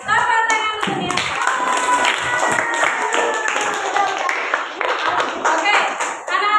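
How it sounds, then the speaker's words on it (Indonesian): Schoolchildren in a fifth-grade classroom clap for a classmate, a dense burst of many hands close by, with voices calling out under the applause. "Tepuk tangan dulu Nielsa."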